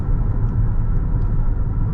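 Steady low rumble from a Lexus NX350h hybrid cruising at highway speed around 1600 rpm, a continuous broadband road and engine drone with no speech.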